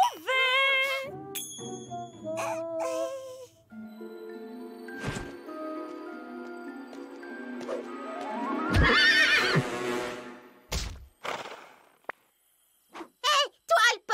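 An animated pony neighs loudly with a shrill whinny, accompanied by clip-clopping hooves amid cartoon sound effects, with voices talking in between.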